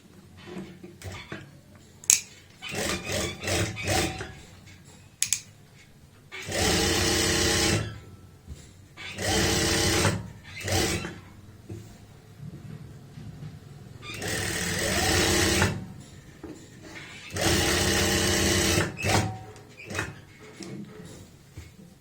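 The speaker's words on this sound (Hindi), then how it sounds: "आप यहाँ पे सिलाई लगाएं इसी निशान के ऊपर" A sewing machine runs a seam on a kameez in four separate bursts of a few seconds each, with quieter handling and fabric noises between them.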